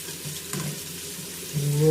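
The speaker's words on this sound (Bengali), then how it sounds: "সবজিগুলো এবার ভালো করে একবার নাড়িয়ে নিচ্ছে" Cauliflower and beans stirred and fried in a pan for soya veg pulao: close, continuous sizzling with scraping stir strokes that grows louder toward the end.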